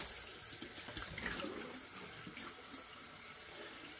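Tap water runs steadily into a sink while a raw turkey's cavities are rinsed out, a continuous close splashing hiss lasting throughout with no talking.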